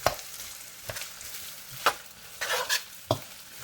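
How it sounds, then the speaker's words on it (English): Day-old rice tossed into hot oil in a pan, crackling and sizzling with a few sharp scrapes and stirring knocks, close and fairly quiet. "We'll just take all of our rice, toss it right into that oil."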